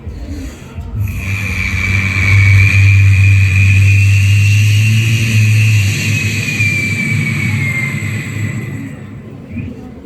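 A performer's voice imitates a rocket launching, a sustained loud whooshing roar with a steady hiss that swells and holds for several seconds before fading, part of a mimicry act that also imitates an aeroplane and a helicopter.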